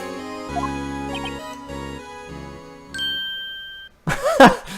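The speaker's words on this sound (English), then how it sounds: "The light bulb clicks." Light bulb click and ding effect in the video game Phoenix Wright: Ace Attorney, a bright chiming tone ringing out and sustaining near and clear, followed by a short burst of other sound.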